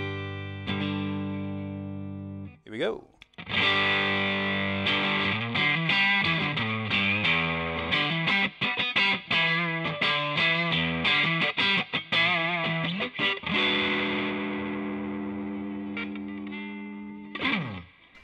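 Electric guitar played on the neck pickup of an American Standard Strat through a Joyo Ironman Rushing Train amp simulator with a touch of reverb: sustained overdriven chords and fast picked runs, loud and close, with a brief spoken line near the start.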